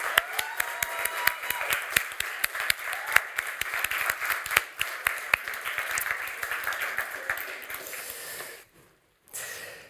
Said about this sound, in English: I also want to give a warm applause to our amazing jury